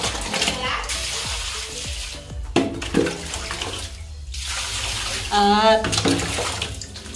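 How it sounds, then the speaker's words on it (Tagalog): Tap water running steadily while slippers are washed, a continuous splashing rush with someone talking over it and brief knocks and clatters. "Hugasan po natin yung chinelas."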